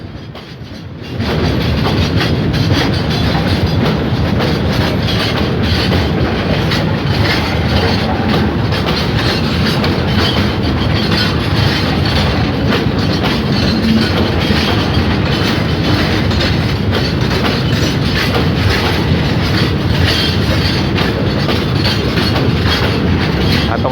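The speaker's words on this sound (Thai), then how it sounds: "ใกล้ข้อต่อรางนะผมแล้วก็ได้ยินเสียงล้อกระทบรางนะ" Steady, loud rumble of a passing express passenger train with continuous rhythmic clacking of wheels over rail joints, up close near a road crossing, lasting throughout with no voices.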